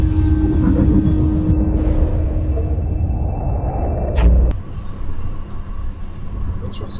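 A loud car passes on a night street with a deep, rough rumble like a motorbike. The noise swells to a sharp peak near the end, then drops to a lower steady hum.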